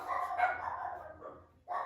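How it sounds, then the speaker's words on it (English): Dogs bark in a steady run of overlapping, fairly loud yaps and woofs that carry on almost without pause, break off briefly, then start again. "And the dogs are going crazy."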